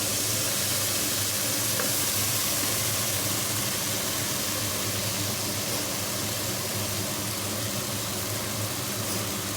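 Potatoes, onion, green chilli and whole garlic cloves sizzle loudly in hot oil in a pan, a steady close hiss of frying that carries on unbroken throughout.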